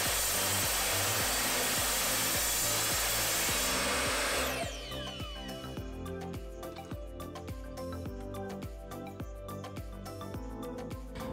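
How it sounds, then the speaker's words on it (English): A miter saw whines loudly as it cuts through an aluminium bar for about four seconds, then winds down, followed by clinking and rattling. "I'm using my miter saw as well"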